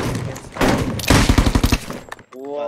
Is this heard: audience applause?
no